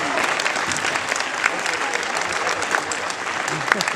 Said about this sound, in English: You're applauding an incorrect response.